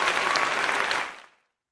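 A push-button applause sound effect gives a burst of crowd clapping lasting just over a second, then cuts off abruptly into silence.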